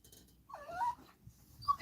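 A dog gives two short, faint whimpering whines, one a wavering high cry and the other a brief squeak near the end, over quiet breathy background noise.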